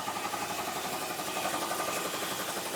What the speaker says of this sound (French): Ça, c'est le moteur principal.